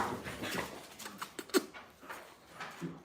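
An American Bully puppy whimpers in soft, high, breathy whines spread through a faint, noisy background, quiet and fairly close, with no talking.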